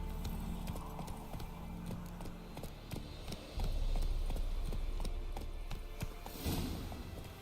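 Roach, a horse from The Witcher 3, gallops with rapid, rhythmic hoofbeats that grow heavier partway through, loud and close, with a brief whinny-like burst near the end and no talk.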